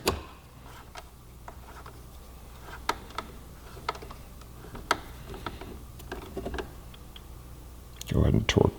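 Ratcheting wrench work on Vortex V3 2.0 adjustable rearsets of a 2015-2018 Yamaha R1, a T-handle and backup wrench at hand: scattered close metallic clicks and ticks over about nine seconds, ending in a louder burst of rasping ratchet noise.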